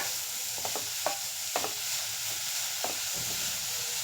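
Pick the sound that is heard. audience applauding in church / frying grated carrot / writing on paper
frying grated carrot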